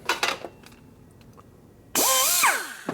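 A power tool boring out a cut in an 88ci Evo motor part starts after a few faint clicks and whines loudly with a wavering pitch for about a second, then trails off.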